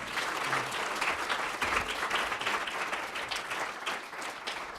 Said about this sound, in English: I think we owe our 2 speakers a great round of applause.